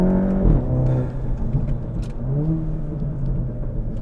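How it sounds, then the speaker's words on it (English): A Volkswagen MK7 GTI tuned to about 300 wheel horsepower in sport mode accelerates at full throttle from second gear, its engine note rising in a loud, steady rumble with a climbing pitch close to the listener. "Start from second gear, full throttle."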